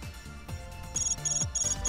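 A telephone ringing in the video game Hyperdimension Neptunia Re;Birth1, a repeating electronic ringtone with pulsing bursts that grow brighter toward the end, steady and close with no voices.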